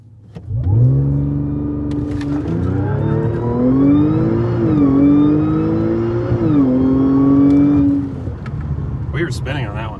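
A 500+ horsepower Audi A6 with a dual pulley and custom transmission tune revs hard and accelerates, engine note climbing through gears with a brief shift dip, loud and close from inside the car before easing off.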